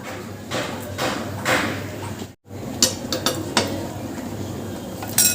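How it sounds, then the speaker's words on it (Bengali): Coconut and milk mixture for Bengali narkel naru being stirred in a pot: scraping and clanking utensil knocks against the metal over a steady background hum, with a brief dropout midway and more clinks after. "এটা ভালো করে এবার ফুটবে এবং মাঝে মাঝে নেড়ে দিতে হবে"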